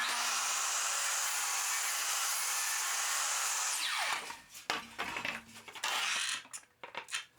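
A miter saw crosscuts a wide wooden board, its loud, steady high whine running for several seconds before the blade cuts out and spins down, followed by a few scattered clunks and knocks.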